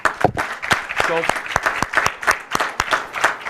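A press-conference audience gives a round of applause for an auto center sponsor, scattered distinct claps with a voice talking over them.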